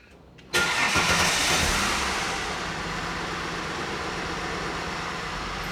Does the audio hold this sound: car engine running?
yes